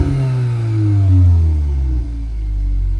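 A new 2024 Volkswagen car revs up and settles, heard from outside, its exhaust giving a loud, deep rising then falling drone with low rumbling harmonics, close by and alone.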